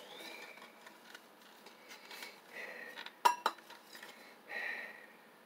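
Dishes, pots and cutlery clatter and clink in a kitchen during hand washing, mostly quiet, scattered knocks with a couple of sharper clanks near the middle and a brief rushing swell toward the end.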